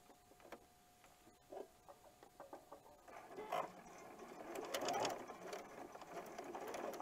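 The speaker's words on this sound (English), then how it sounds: "I'm going to sew from corner to corner" A sewing machine stitches across quilt fabric corner to corner for a Christmas scrappy block, starting with a few soft clicks and then rising into a steady, faint mechanical whir.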